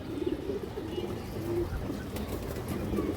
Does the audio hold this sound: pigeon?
yes